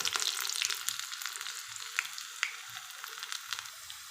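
Chopped onions sizzle in hot oil for a Kerala-style coconut fish curry, a loud, steady hiss with crackling pops that stays close and continuous throughout, with no voices.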